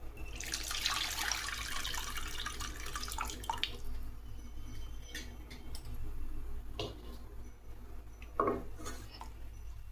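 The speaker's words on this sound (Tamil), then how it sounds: "இப்போ நம்ம குழம்பு வேணுங்கிற அளவுக்கு தண்ணி ஊற்றிக்கலாம்." Water pours from a vessel into a pot of karunai kizhangu (elephant foot yam) curry, a broadband splashing rush early on that fades, followed by faint clinks and taps of utensils against the pot in a quiet kitchen.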